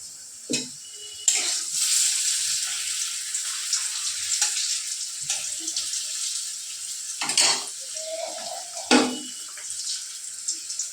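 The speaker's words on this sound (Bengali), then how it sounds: "উচ্ছে ভাজা হচ্ছে" Bitter gourd slices fry in a pan with a steady broadband sizzle, broken by a few short clatters and stirring knocks; a brief tonal hum appears near the end, and no one speaks.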